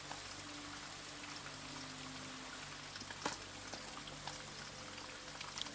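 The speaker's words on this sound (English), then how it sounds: "Love the sound of rain." Steady rain in the Blue Prince video game, a dense, even patter falling without a break, with a few sharper drops standing out now and then.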